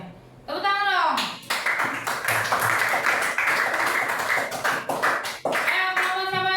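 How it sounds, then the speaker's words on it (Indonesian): Children in a primary school classroom clap their hands together in a sustained burst of close, lively applause, with a teacher's voice heard briefly at the start and end. "Tepuk tangan dong."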